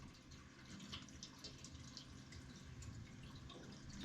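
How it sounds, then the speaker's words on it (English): Faint trickling and dripping water runs continuously as a home heating system drains through pipes, soft and steady with scattered drips. "It sounded like water running."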